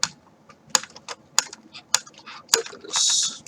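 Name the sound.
removing a screw from a Maisto model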